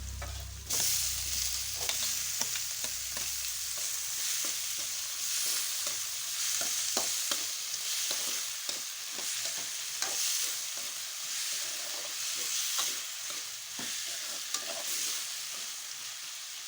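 Tomato and onion stir-frying in a hot pan for chapati upma: a continuous loud sizzle with repeated scraping strokes of a spatula, and no voices.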